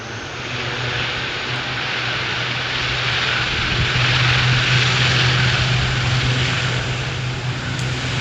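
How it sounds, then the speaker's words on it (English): ATR turboprop airliner taking off at Edinburgh airport, a loud sustained propeller drone with a steady low hum that swells slightly mid-run as the engines push at full power, heard from nearby. "This ATR is going for it."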